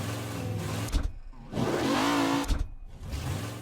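A car engine in Mafia: Definitive Edition holding a steady, droning hum while cruising, broken by two short gaps around gear shifts, close and fairly loud with no voices.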